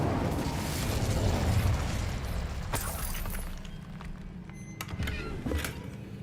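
An Incendio fire spell blasting in Hogwarts Legacy, a roaring whoosh of flame with sharp crackling bursts and a low rumble, moderately loud with a few brief pops toward the end.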